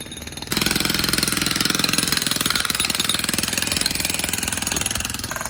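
Builders at a temple in Rishikesh, India, run a power drill wired straight into an overhead power line. After a short lead-in, a loud, rapid, continuous rattling hammer sounds close by and carries on steadily.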